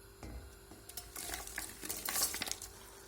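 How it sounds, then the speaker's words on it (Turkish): Chopped peppers hit hot oil in a pot with a rising sizzle and crackle, for winter menemen, mixed with clattering of the pot and a stirring utensil, close by. "Yağım ısındıktan sonra doğradığım biberlerimi içine koyuyorum."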